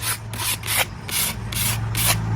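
Sandpaper rubs back and forth over dried joint compound on a DIY Halloween outdoor planter, in loud rhythmic scratchy strokes roughly every third of a second, close up with no talk.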